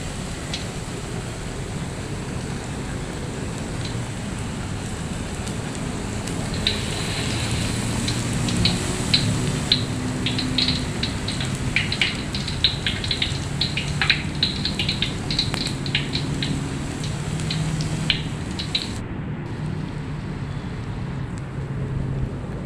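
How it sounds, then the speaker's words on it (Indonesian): Tempeh coated in batter deep-fries in hot oil, a steady, close crackling sizzle with dense bursts of popping through the middle, and no talking. "baru kita masukkan ke dalam penggorengan"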